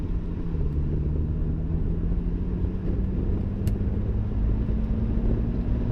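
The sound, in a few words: car accelerating in Eco Pro mode, exhaust sound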